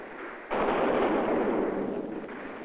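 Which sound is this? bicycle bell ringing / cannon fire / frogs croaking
cannon fire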